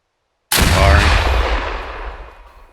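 A medium anti-tank weapon fires in ArmA 3, setting off a single sharp, loud blast that starts after a brief silence, with a booming low end and a long rumbling tail that fades slowly.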